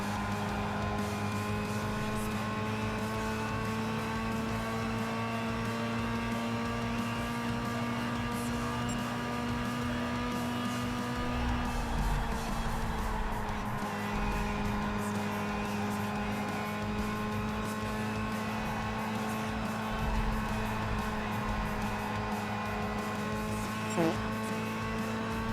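A race car engine in Gran Turismo 5 holds full throttle with a steady, sustained high-pitched whine, dipping slightly in pitch partway through before climbing again, with faint tire noise and no speech.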